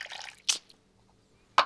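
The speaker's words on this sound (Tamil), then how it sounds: "அண்ணா தண்ணி அதிகமா ஊத்தாதீங்க" Water poured onto a garden plant lands in two short, wet splashes about a second apart, close and fairly quiet, with near silence between them and no talking.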